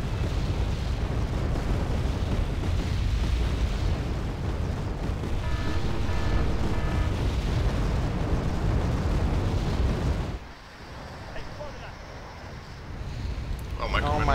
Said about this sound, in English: look at all that rocket arty right hand side